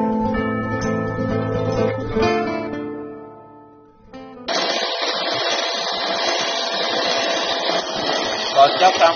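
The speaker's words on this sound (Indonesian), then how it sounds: "Kalau pakai mixer cukup selama 3 menit." Electric hand mixer whisking a dessert mixture for a street-food sweet, a steady loud motor whir that starts after a brief pause and runs continuously, with talk and music beneath it earlier.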